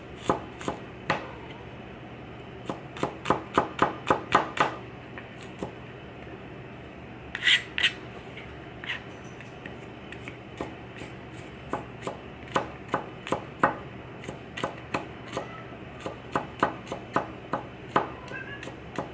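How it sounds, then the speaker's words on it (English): A knife chops garlic on a cutting board with rapid, crisp taps. The chopping comes in uneven bursts with short pauses, close and fairly loud, and no talking. "And our garlic, we're just going to chop it over."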